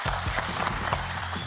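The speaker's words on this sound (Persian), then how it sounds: "بسیار خوب تشویق کنین" Audience applause at a Persian-language strength show hosted with the wrestler Pahlawan Zabi, a dense steady clapping that fills the moment alongside a faint voice.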